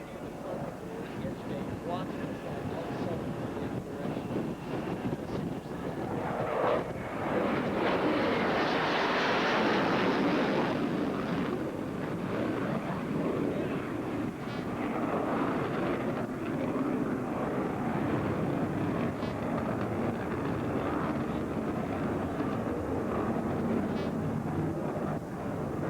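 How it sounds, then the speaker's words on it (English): An F-14 Tomcat jet flies past on knife edge near the USS Independence. A steady engine roar swells into a loud, broad rush at its closest point, then eases into a lingering drone as it departs. "As the F-14 passes on knife edge"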